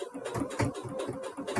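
A sewing machine stitches with a straight stitch around the beak of a fabric flamingo on a dog bandana, a close rhythmic chatter of rapid even needle strokes, with no talking.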